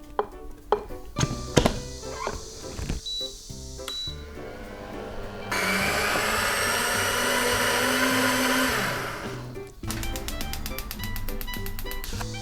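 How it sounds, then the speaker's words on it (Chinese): A food processor whirs peeled, scalded tomatoes into purée, a steady buzzing drone running for several seconds, set among clatter and knocks of kitchen prep before and after. "都放在料理机里面打成泥。"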